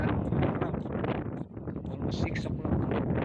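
Gusty wind at Emerald Hill, New South Wales, buffets the microphone with a low, rumbling roar, and a voice is heard faintly underneath.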